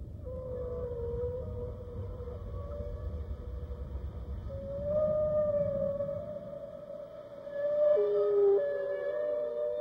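Long, wavering tonal calls from a humpback whale drift slowly up and down over a low rumbling undertone, with a louder, higher moaning phrase rising near the end and no voices present.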